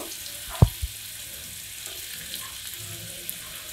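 Potatoes lightly frying in a pan for labra, a mixed vegetable dish, give a faint, steady sizzling hiss, with a sharp utensil knock near the start and a softer one just after.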